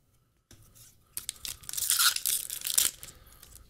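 A Magic: The Gathering booster pack tears open up close, rising from a few soft crinkles into a loud, rough foil rip with crunchy crackling, no talking.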